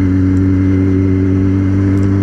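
A Yamaha XJ6 motorcycle engine runs close by during a test after a steering damper was fitted. It makes a loud, steady mechanical drone at a held speed, with no talking.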